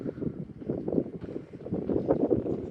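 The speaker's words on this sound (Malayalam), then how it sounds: "കാറ്റ് പിടിക്കുന്നുണ്ട് കേട്ടോ" Steady wind buffets a small, gently swaying suspension bridge strung with metal wires, producing a continuous low rumbling rush close to the microphone with no voices.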